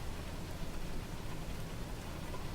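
Steady rain falls in Microsoft Flight Simulator over the mainland of Papua New Guinea, a dense continuous hiss of drops on surfaces with no voices, even and unbroken throughout.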